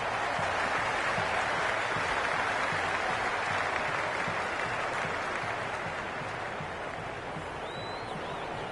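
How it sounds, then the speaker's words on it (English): A large cricket crowd cheers and applauds steadily throughout, a dense roar of clapping and voices that stays loud and continuous, easing only slightly near the end. "It's evident and ever so audible that the crowd is at near bursting point at today's play."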